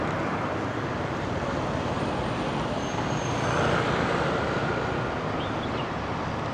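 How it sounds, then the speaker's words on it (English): Tour buses and other traffic rush past on a road along the Chiang Mai moat, a steady loud roadway roar that swells briefly midway as a large vehicle goes by close. "Man, those tour buses move pretty quick for the size."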